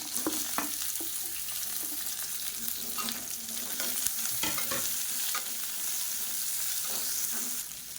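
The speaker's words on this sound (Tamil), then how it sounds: "எண்ணெய் ரொம்ப சூடாகிடுச்சு, அதனால் நான் உடனே வெங்காயத்தை சேர்த்துக்கிறேன்." Chopped onions, two medium ones, hit very hot oil on a medium flame for a chutney and fry with a steady loud sizzle, broken by occasional scraping stirs, with no voice over it.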